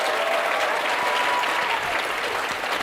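A dense, sustained round of applause from a crowd fills the whole stretch, loud and even with no voices standing out.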